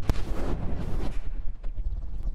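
A large explosion bursts on a vehicle's back during a video game battle, a close, heavy rumbling blast that crackles on and then tails off with scattered lighter pops.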